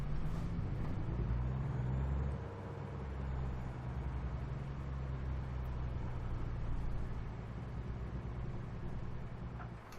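An 18-wheeler truck reverses with a trailer in American Truck Simulator, a steady low engine rumble rolling on throughout with no voices.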